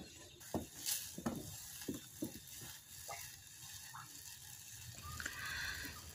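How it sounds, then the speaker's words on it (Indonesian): Grape jelly pudding ingredients stirred in a pot over medium heat, with faint, irregular taps and scrapes of a utensil against the pot and a soft background hiss. "kita masak bahan-bahan ini dengan api yang sedang, sambil terus diaduk-aduk supaya bahan-bahan yang ada di dasar panci tidak gosong"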